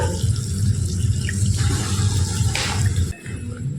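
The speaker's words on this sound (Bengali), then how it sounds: "দেখুন দিয়ে দিচ্ছি 1 বাটি পরিমাণে গরম জল।" Hot water poured from a bowl into a pan of spiced potatoes, a steady loud rushing splash that softens near the end.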